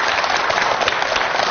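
Sustained applause from a studio audience at a televised Chinese music tribute, welcoming a tenor to the stage, steady and dense throughout.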